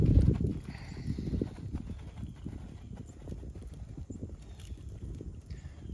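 Horse hooves clip-clop in a steady three-beat collected lope during a riding test, moderately close, with a brief louder patch at the start and faint wind in the background.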